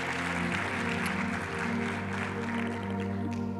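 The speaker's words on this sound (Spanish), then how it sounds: "¿Cuántos pueden darle un fuerte aplauso al Señor?" A church congregation applauds during a sermon, a steady, continuous patter of many hands mixed with a sustained musical tone, fairly faint and even throughout.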